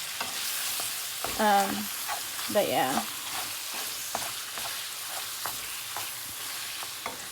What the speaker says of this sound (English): I'm just frying some mince now